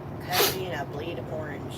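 A single sharp sneeze bursts out near the start inside a truck cab, close and loud, followed by a voice talking over the low drone of the idling cab.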